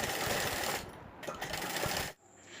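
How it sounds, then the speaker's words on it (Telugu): A sewing machine runs fast and steadily, stitching three sides of a fabric pillow cover with a dense mechanical whir, then stops abruptly and leaves near quiet. "ఇప్పుడు 1/2 ఇంచి గ్యాప్తో 3 వైపులా స్టిచ్ చేసుకోవాలండి."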